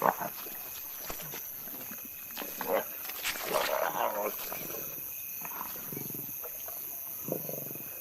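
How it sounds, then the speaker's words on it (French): Young lions feeding on prey at night after a long famine. Tearing, chewing and low growls and grunts sound at a moderate distance over a steady insect-like background hiss, with the noise swelling in the middle. "Après une période de famine et de privation, les jeunes lions peuvent enfin se remplir la panse."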